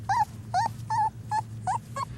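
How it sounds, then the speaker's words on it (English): Livestock guardian puppies whimper in six short, high, rising whines spaced at an even rhythm, close and fairly loud above a low steady hum, with no talking. "she had 17 puppies"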